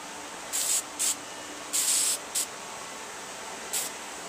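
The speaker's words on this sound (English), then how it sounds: "And then put a guide coat on right now." Short bursts of an aerosol can spraying SEM Trim Black guide coat onto a masked-up car part: five separate hissing sprays of varying length, close and clear over a steady background hum, with no talking.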